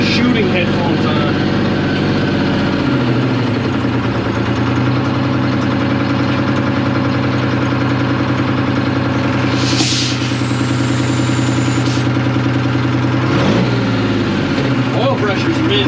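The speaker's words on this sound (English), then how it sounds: "There's a hole in the exhaust, like right under the floor here" A 1975 International Loadstar 1850 truck with a hole in the exhaust under the floor idles loudly and close by, a steady low rumble with a shift in pitch partway through, and a voice speaks over it.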